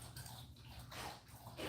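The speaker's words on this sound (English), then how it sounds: "sorry if you can hear the dogs drinking water." Dogs drink water indoors nearby, their soft, wet lapping and slurping running unevenly through quiet room noise.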